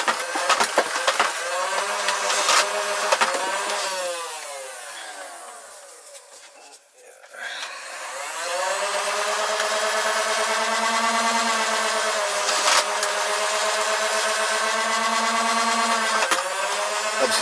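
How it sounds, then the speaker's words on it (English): A Nerf Infinus blaster whirs as its flywheels spin up and wind down, with a high motor hum, brief lulls, and clicks and thumps of darts being fed and fired close by. "pull down the rev, pull down the pusher, and just feed darts in as you go"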